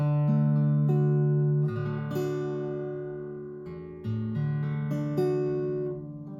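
Guitar chords ring out one after another, each strummed and left to sustain and decay, clear and close with no talking.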